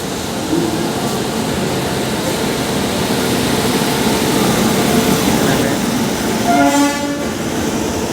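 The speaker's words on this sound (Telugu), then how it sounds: "ఇది లోకల్ ట్రైన్ అండి ఇక్కడ సైడ్." A local train rumbles past close by in a loud, continuous roar, and a horn sounds in short repeated toots near the end.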